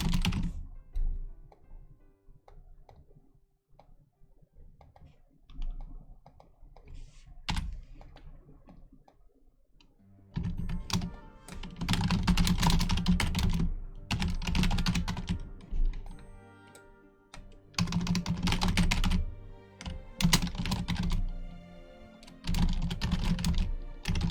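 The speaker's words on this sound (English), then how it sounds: "I'm typing and my keyboard's probably being super loud right now" Loud, close typing on a computer keyboard: bursts of rapid, clattering keystrokes that stop and start, with quieter pauses between flurries.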